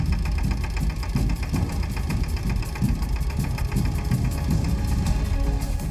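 Tractor engine running steadily on a village road, a loud, close, continuous low rumble with a knocking, idling-style throb throughout and no talk.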